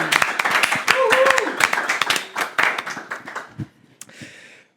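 A French TV studio audience claps for the production control crew, a dense burst of applause that thins out and fades as a host speaks over it.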